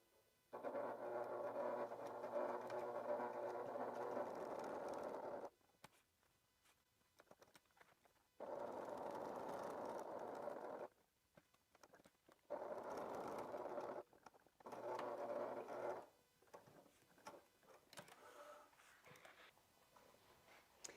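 A sewing machine sews a wallet seam for a Dior-inspired wallet in several sustained runs of steady whirring hum, broken by pauses. The sound is quiet and close, with no talking.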